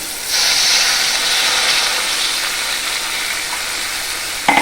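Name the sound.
water added to fried spice paste for Tangra fish curry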